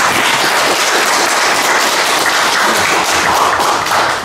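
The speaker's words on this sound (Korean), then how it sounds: "큰 박수로 맞아주시기 바랍니다" A crowd applauds steadily and loudly to welcome a speaker at a lecture, a dense wash of many hands clapping that continues without a break.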